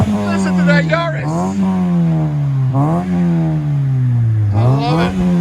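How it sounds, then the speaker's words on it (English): A 2008 Toyota Yaris 1.5L, parked and fitted with an eBay muffler exhaust, revs up loudly three times, each rev rising and settling back to a steady idle drone. "Put it in park and give it gas. Listen to that Yaris."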